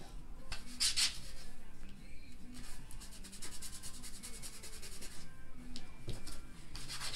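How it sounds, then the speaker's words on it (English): A shamrock stencil being wiped clean with an antibacterial wipe, heard as close, soft rubbing and scrubbing strokes in uneven bursts, with a couple of brighter swipes, no speech. "antibacterial wipe just so I can clean the shamrock for a clean impression"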